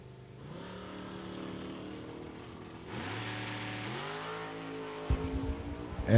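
Drag racing cars, including a Ford Mustang, at a raceway: a steady engine drone rises to a louder revving note midway, then sharp, close bursts of acceleration at the end.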